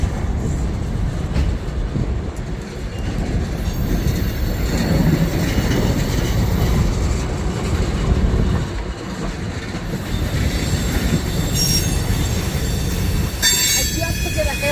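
A train passing through St Paul, loud and close with steady rumbling, clattering wheels on the rails and shrill squeals of wheels against track, continuous for the whole span.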